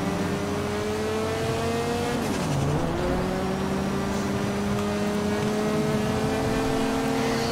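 A car engine in the GTA V video game holds a steady drone, then dips and climbs again as it accelerates while drifting, the tone rising gradually over a constant background hum with no talking.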